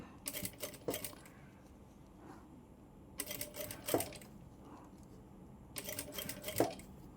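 A sewing machine stitches a curved, wavy hem in three short bursts of rapid, quiet mechanical clatter, separated by soft pauses as the fabric is guided, with no talking.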